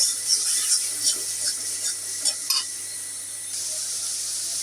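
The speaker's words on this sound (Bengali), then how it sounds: "তো এখানে আমার মশলাটা কষানো হয়ে গেছে বন্ধুরা।" Spice paste stirred and fried in a pan, a steady close sizzle with scattered scraping strokes of the spoon against the metal, no voices.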